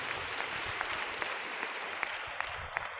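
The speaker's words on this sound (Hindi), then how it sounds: "जोर से ताली बजाएंगे यीशु जी के लिए।" An audience applauds at a Christian peace festival gathering, a steady patter of clapping with a few sharper claps standing out, moderately distant and without talk.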